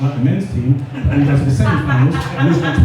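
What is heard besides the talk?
No distinct noise like a dog, phone or traffic.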